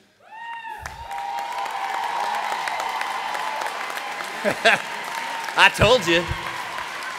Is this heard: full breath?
no